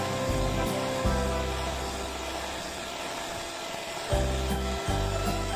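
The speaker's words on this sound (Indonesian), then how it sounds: "Ini aku mixer dengan kecepatan tinggi hingga mengembang dan putih berjejak ya teman-teman." A hand mixer beats fermented cassava (bolu tape) sponge cake batter at high speed. It gives a loud, humming motor whine with a steady tone that fades into a rougher whir midway, then returns strongly, close up with no talking.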